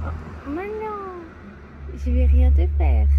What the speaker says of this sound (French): C'est un chat sauvage.